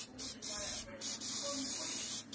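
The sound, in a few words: spraying rust-protection spray around car suspension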